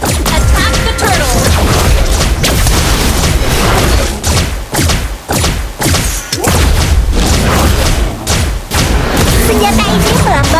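Mobile Legends battle audio from a Layla solo ranked match as the team attacks the turtle: dense, continuous booming skill impacts and crashing hits with game music, loud throughout with brief dips, and voiced game announcements mixed in.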